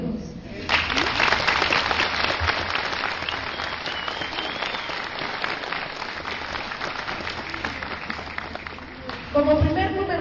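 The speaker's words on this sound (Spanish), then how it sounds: "Brindemos esta noche entonces un fuerte y caluroso aplauso a todos estos jóvenes." A large audience at a youth band concert breaks into warm, sustained applause, a steady dense clapping that holds for nearly ten seconds before a brief louder burst at the end.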